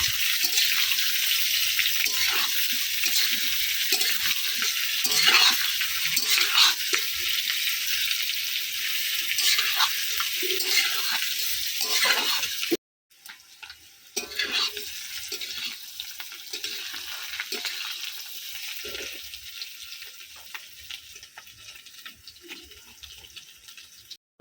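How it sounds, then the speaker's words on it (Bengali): Spices sizzle steadily in a pan over a briskly burning clay stove while being stirred, a continuous crackling hiss with small scraping accents and a brief drop partway through. "এখন লাল লাল করে ভেজে নেবো এটাকে"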